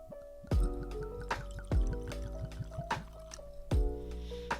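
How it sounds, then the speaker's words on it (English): Cask strength bourbon whiskey poured into a glass in three glugging bursts, each a splash followed by quick gurgling drips, close and clear with no talking. "Okay, nice little pour."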